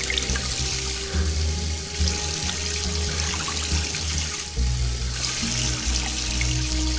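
A tap runs into a sink during hand washing in the video game Beyond: Two Souls, a continuous, fairly loud stream of splashing water with one brief dip midway.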